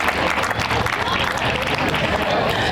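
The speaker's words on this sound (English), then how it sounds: "And so I'd like to give the staff another great round of applause." Audience at a community center grand opening applauding the staff, a steady, dense wash of clapping from a crowd with a murmur of voices mixed in.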